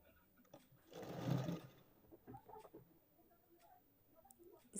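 Sewing machine stitching a blouse, a faint, brief whirring run of stitches followed by quiet ticking and fabric handling.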